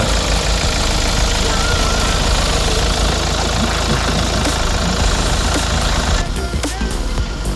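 A 2020 Hyundai Palisade with the 2.2 diesel engine and AWD idles loudly in the engine bay, a dense steady clatter and rumble that continues throughout the clip.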